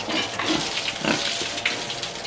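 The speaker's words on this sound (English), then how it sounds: "Happy pigs when they get a bath." Pigs grunt and squeal at close range during bath time at a piggery, their short calls breaking over a steady rush of hose water.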